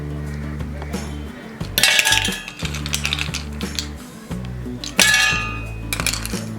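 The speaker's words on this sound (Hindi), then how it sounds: "मिक्सर जार में डालेंगे हम ये आइस क्यूब्स।" Hard clattering clinks and clangs as ice cubes drop into a jar, in a few bursts over a low musical backdrop.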